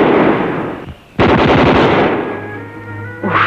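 Gunfire in a 1955 Soviet film: loud, dense broadband bursts of shooting that cut out briefly, then return as a rapid rattling volley and fade into a lower rumble with a steady hum.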